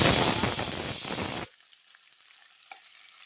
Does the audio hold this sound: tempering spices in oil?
yes